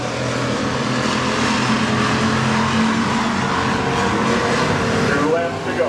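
Hobby stock race cars roar off turn 2 at Nobles County Speedway, a dirt oval in Worthington, their engines forming a loud, sustained drone that holds steady throughout, with no clear talk over it.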